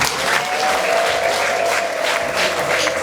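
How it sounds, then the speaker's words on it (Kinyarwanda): Wedding guests applauding a gift, a full crowd clapping loudly and continuously with a faint tone ringing underneath. "Ndagira ngo iyo mpano tuyiherekeze n'amashyi menshi."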